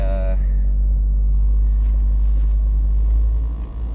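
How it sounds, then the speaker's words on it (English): A car climbs a parking garage at low speed, its engine and tyre rumble heavy and steady for a few seconds before easing off slightly at the end. "now I'm just back in that parking garage, driving up the garage rather than down the garage, looking for a parking spot"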